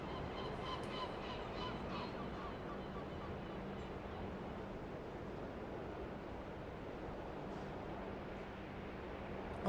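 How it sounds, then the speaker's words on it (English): Honking seagull cries sound in a harbour scene of the truck driving game Euro Truck Simulator 2, several calls early on fading into a steady wash of surf and wind. "We can feed the seagulls."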